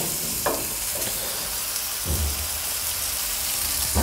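Meat sizzles steadily in hot oil in a pan, with a continuous close crackle and occasional louder spits and pops throughout, no voices.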